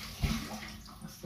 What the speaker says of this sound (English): Now we have some fresh cilantro with the kids. I'm gonna double rinse it.